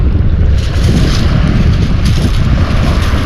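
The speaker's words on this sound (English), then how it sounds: "The wind just took it out of my hand." Strong wind buffets the microphone on a Pinellas County, Florida beach, a loud, steady broadband roar with faint surf mixed beneath it and no talking.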